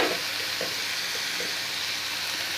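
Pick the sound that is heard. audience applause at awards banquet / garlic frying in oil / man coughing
garlic frying in oil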